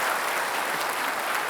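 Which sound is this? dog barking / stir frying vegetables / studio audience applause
studio audience applause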